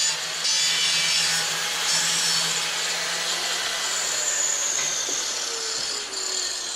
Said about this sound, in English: I can first try to drill this slightly bigger.